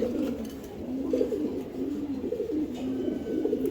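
A pair of Giribaj pigeons gives continuous low, throbbing coos in repeated waves, near and steady over faint background hiss.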